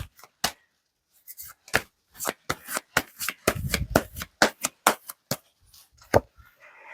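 Tarot cards shuffled for an advice reading: a brisk, uneven series of sharp papery slaps and riffles, close and distinct, with brief pauses between bursts and no talking.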